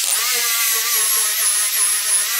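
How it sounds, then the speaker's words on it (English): A 7-inch grinder fitted with a sanding disc grinds acrylic paint off a steel car bonnet, a loud, steady high-pitched whine and rasp that holds continuously, close up and alone. "Here we have a 7-inch grinder with a sanding disc on it, and it'll rip into this really fast."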